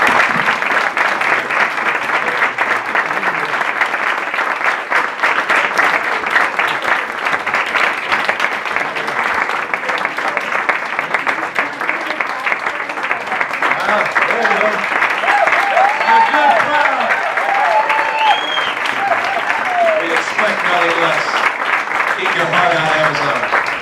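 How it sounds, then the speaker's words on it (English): A large audience applauds continuously, a dense wash of clapping that holds steady, with a few voices and cheers rising toward the end. "Thank you for the warm applause."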